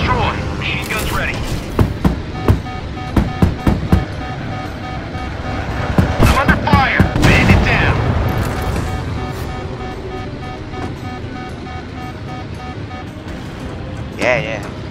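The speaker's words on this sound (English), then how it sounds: "Machine guns ready." Aerial combat in the VR flight game Warplanes, with sharp cracking bursts of fighter-plane machine gun fire and explosions over engine drone, while a player talks excitedly throughout.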